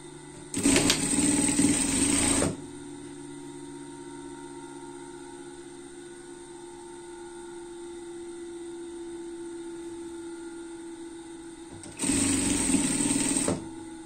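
A sewing machine stitches a sleeve seam on a school jacket in two loud, close, whirring bursts of about two seconds each, separated by a long stretch of quiet room hum.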